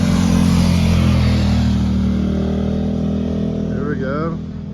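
Motorcycles, likely Harley-Davidsons, roar past on a Northern California road by a creek, loud and close at first with engine rumble, then a rising rev as one accelerates away and the sound fades slightly.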